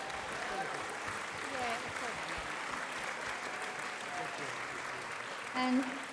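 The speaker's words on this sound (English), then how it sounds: "I'd ask you to give them a round of applause" A union delegates' meeting in New South Wales with an audience applauding the staff, steady broad clapping that fills the room for several seconds with voices mixed in underneath.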